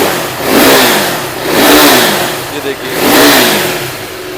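KTM RC 390 sports bike engine revving up and down three times in a smooth swelling rhythm, close and loud, with someone speaking briefly over it.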